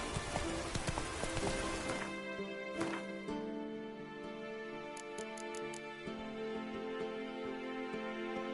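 Roach, a horse in The Witcher 3, moving through rain: a dense rain hiss with faint hoof clip-clops, then a quieter, ringing musical tail with a few sharp ticks near the end.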